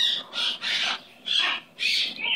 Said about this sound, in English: He's a pretty, pretty bird.